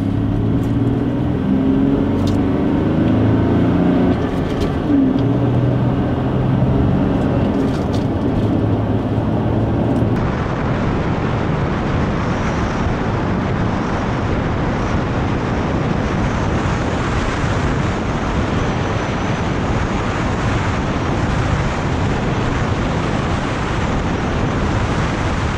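A car carrying a rooftop cargo bag cruises at 50 mph, filling the space with loud, continuous wind rush and road roar that thickens into heavier buffeting partway through, with no talking.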